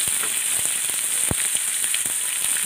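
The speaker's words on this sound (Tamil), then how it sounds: "தக்காளி பச்சை மிளகாய் நல்லா வதக்கியாச்சு" Tomato and green chillies sauté in a pan for mint chutney, making a loud, continuous sizzle broken by sharp pops and crackles that fall at scattered moments.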